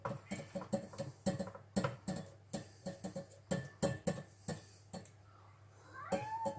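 A tabby cat in a kitchen meows several times near and clearly, short calls spaced among soft clicks and handling noises, with one longer rising meow near the end.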